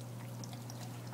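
Steady pouring water streams into an aquaponics A-frame grow bed, a continuous close, even trickle with a low hum underneath and no speech.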